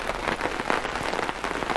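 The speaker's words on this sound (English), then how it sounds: "it started raining" Steady rain patters on a tent at a campsite, a dense, even hiss of drops close by with no voices.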